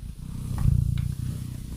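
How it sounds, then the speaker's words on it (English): A cat purring a couple of hours after being given a shower: a close, low, continuous rumbling purr heard on its own for under two seconds. "she's purring, so she's not upset"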